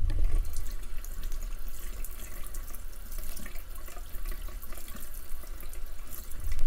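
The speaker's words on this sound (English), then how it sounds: "I'm going to grab a scoop of this dough and take it to the sink and rinse the ice cream off of it" A running sink tap pours a steady, close stream of water as cookie dough scooped from cookie dough ice cream is rinsed under it, with no talking.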